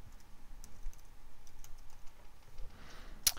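Someone types on a computer keyboard, a soft, rapid patter of key clicks at close range over faint background noise, with one sharper click right at the end.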